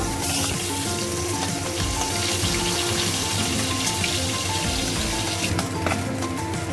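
Katla fish pieces fry in a pan of hot oil with a loud, dense, continuous crackle, close by and unbroken by any voice.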